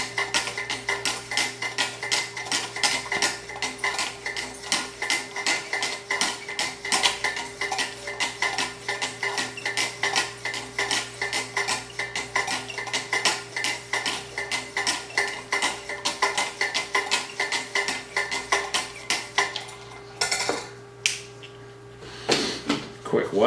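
Knife edge stroked on Wicked Edge 1000 grit stones: steady rapid rhythmic rasping, many quick close strokes running continuously, with a faint steady hum beneath and a brief pause near the end.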